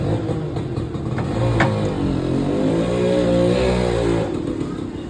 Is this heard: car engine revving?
yes